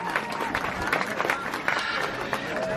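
Audience at a safari bird show clapping for a trained bird, a steady patter of applause with scattered louder claps, crowd murmur mixed in throughout.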